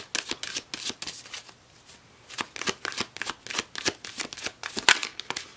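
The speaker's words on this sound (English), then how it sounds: "Let us go ahead and further clarify this reading by using the Enchanted Map Oracle cards." A deck of Enchanted Map Oracle cards is shuffled in a steady run of crisp, riffling flutters, close and clear with no speech, pausing briefly partway through.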